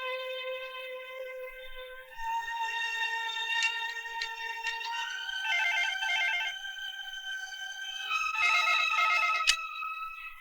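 A telephone rings in repeated bursts of bright, trilling electronic tones, growing a little louder toward the end, with no voices.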